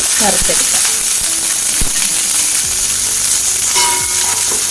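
Jackfruit and plantain fry loudly in a pan with a constant crackling sizzle, while a few clinks and scrapes sound over it.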